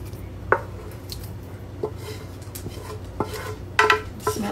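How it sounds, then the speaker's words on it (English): Cooked sausage and zucchini poured and scraped out of a pan, with scattered clanks of metal, utensil scrapes and soft squishy thuds, no talking. "I'm going to go ahead and pour our sausage and zucchini."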